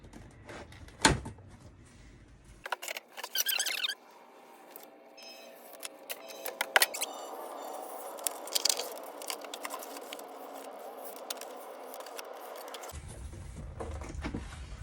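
A scalpel scores and cuts through foamboard on a 3 ft custom Barbie standee, giving close, intermittent scraping and snapping cuts with soft handling knocks between strokes, alone without any talk.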